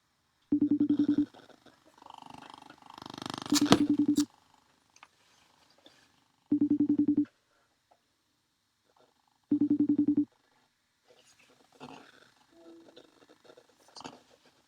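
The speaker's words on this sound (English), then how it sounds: "I don't think my phone allows for double calls, Ian." Repeated phone ringback tones from an outgoing call on a video conference line, four evenly spaced bursts with silent gaps, plus a short stretch of dialing and line noise between them, no talk.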